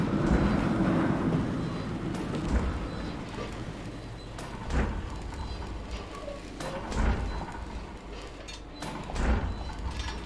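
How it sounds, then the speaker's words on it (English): A train rumbles into a station in a game scene, a dense low roar with rhythmic heavier thumps every couple of seconds, loud and sustained, with no talking. "Look, a train arriving at the station."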